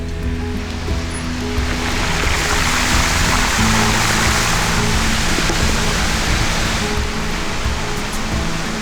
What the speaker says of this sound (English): there's a nice little river